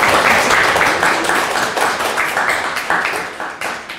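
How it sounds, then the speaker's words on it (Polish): An audience at a Polish high school debate event applauds, dense close clapping that starts loud and gradually tapers off. "Można bić brawa."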